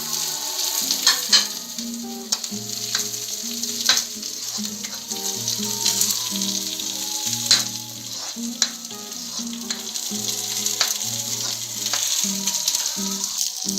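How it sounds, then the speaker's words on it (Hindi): Paneer sizzles and fries steadily in a hot kadai for a dhaba-style kadai paneer, a dense hiss with occasional stirring clicks, while a melodic tune plays underneath. "जो पनीर है इसमें डाल देते हैं।"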